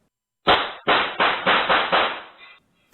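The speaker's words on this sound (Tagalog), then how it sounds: "umalingaw-ngaw ang sunod-sunod na putok ng baril" A rapid series of six sharp bangs, loud and close, fired in quick succession and trailing off into silence.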